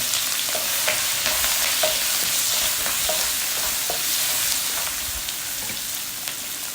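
Capsicum frying in a pan with cumin, asafoetida and turmeric for a besan capsicum curry, a steady close sizzle with scattered stirring clicks and scrapes throughout, no voices.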